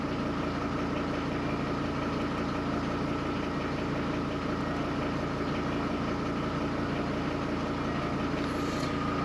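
A Mercedes W210 E290 diesel, OM602 engine, idles steadily after injection pump timing work, a loud continuous close rumble with no speech.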